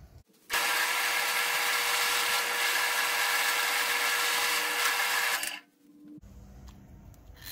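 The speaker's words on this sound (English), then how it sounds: "follow me to the drill press, and we'll get these holes drilled." A loud, steady whirring and grinding of a drill press boring holes for a homemade vibrating parts washer runs for about five seconds, then cuts off abruptly.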